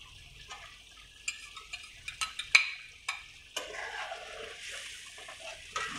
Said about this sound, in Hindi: अब हम इन स्पाइसेस को अच्छे से भुनेंगे जब तक इनके कलर में और इनकी खुशबू में चेंज आ जाए।